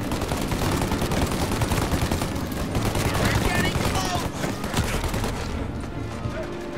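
Heavy gunfight at a farm in the video game Mafia Definitive Edition, with continuous overlapping gunfire and bursts of automatic fire, loud and dense throughout.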